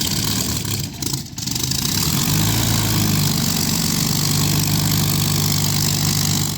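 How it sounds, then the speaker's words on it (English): A Rolls-Royce Merlin 27-litre V12 aero engine from a Supermarine Spitfire runs loud and close, a steady heavy drone with a brief dip early on before settling into a continuous roar. "The Rolls-Royce Merlin engine is perhaps the best sounding internal combustion engine ever produced."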